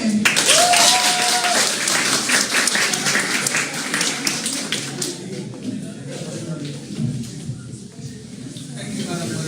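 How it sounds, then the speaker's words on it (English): An audience at a secondary school debating competition claps for two prize presenters, a burst of applause that fades after a few seconds into room murmur and a voice talking. "Clap for them."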